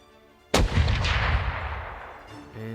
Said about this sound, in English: Fire first cannon.